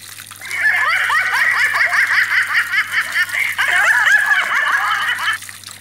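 Running water pours steadily over mosquito larvae being rinsed, a continuous close gurgling splash that holds for about five seconds before stopping.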